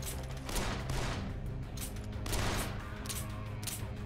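Revolver gunfire in the zombie video game Dead Island, heard as several sharp shots spaced through the clip, loud over a dense game background with no talking.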